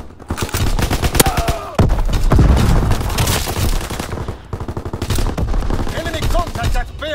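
Heavy machine-gun and rifle fire from a war video game rattles in long dense bursts, loud and near, with scattered booms and game voice callouts underneath.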